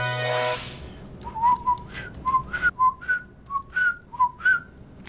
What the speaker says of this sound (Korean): 야, 휘파람 불지 마.